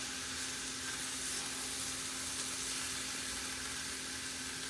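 Mixed vegetables sizzle steadily in a pan over low heat as a side dish, a soft continuous frying hiss with light stirring, close and even throughout with no voices.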